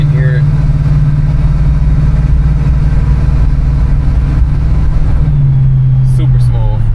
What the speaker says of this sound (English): Getting on the throttle a little more so you guys can hear it.